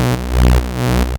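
Serum saw-wave patch pitched down two octaves with its two oscillators detuned to about -18 and +18, played as a dense, buzzy sustained chord for a UK garage remix, with short level dips, alone with no talk.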